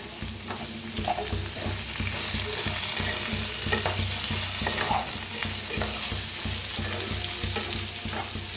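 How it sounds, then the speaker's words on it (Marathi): Potatoes and okra stir-fried in a pan with chaat masala and salt, a continuous sizzle with repeated scraping and stirring, close and steady, with no talk. "मिक्स करूया, एकदा मिक्स करून भाजूया।"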